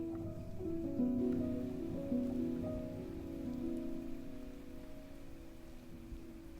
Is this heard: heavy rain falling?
yes